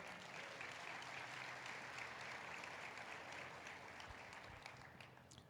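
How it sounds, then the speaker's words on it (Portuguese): A church congregation claps in sustained, dense applause that continues steadily throughout, fairly loud and even, with a slight fade toward the end. "Dá uma salva de palmas ao Senhor."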